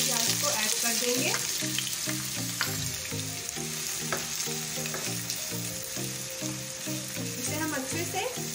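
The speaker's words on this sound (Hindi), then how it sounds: "एक कढ़ाई में मैंने 5 टेबलस्पून ऑयल को गरम कर लिया है। इसमें हम 2 मीडियम साइज की स्लाइस की प्याज को ऐड कर देंगे।" Two medium sliced onions fry in five tablespoons of hot oil in a kadai. The sizzle is steady, close and continuous, with a rhythmic background of music playing throughout.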